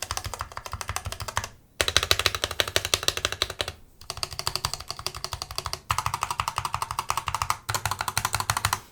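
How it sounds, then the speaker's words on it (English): Rapid, crisp clicking from an AEON AC61m keyboard with Gateron yellow optical switches, typed in steady bursts broken by a few short pauses, close and clear. "let's just do a little typing test"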